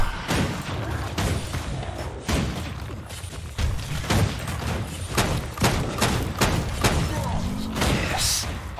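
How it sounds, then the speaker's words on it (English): Rifle gunfire in Guild Wars 2 combat, a rapid series of sharp cracks and thuds firing close and loud with short gaps, amid other battle noise and occasional speech. "It's going down very, very fast with my excellent rifle"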